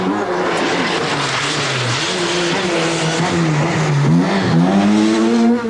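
A Vauxhall Astra GTE front-wheel-drive rally car races on the 1989 Circuit of Ireland rally, its engine roaring loud and sustained with rising and falling revs as it drives hard past.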